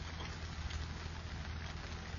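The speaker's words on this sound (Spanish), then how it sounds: "Ha estado lloviendo desde hace un rato" Steady rain falls at Poza Redonda in Santa Ana, a dense, even hiss of drops that holds at the same level throughout, with no voices.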